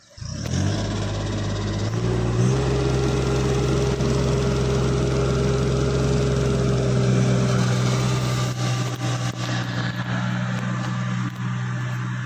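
A tractor pulling a harrow to earth up soil on sugarcane rows drones steadily with a low engine hum that rises after startup and holds constant, loud and close, fading slightly toward the end.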